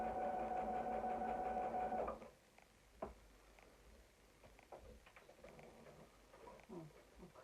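Sewing machine top stitching on a sanitary towel holder, a steady close mechanical whir running for about two seconds before stopping, followed by quiet handling clicks and rustling.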